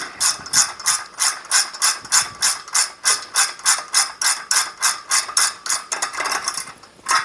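Steady run of crisp ratchet clicks, roughly three per second and close up, as a part of a Brunswick GSX bowling pinsetter accelerator motor kit is tightened with a ratchet wrench, with no talking.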